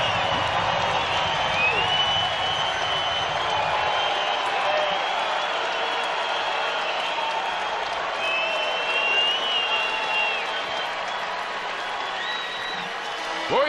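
A home crowd at a Boise State versus Colorado State college basketball game keeps up a steady, loud roar of cheering and applause after a foul, with whistles and shouts rising over the din throughout.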